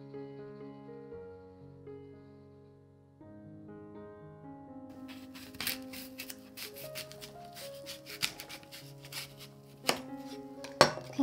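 A knife crunches through a firm apple in a few sharp cutting strokes, heard over steady soft background music.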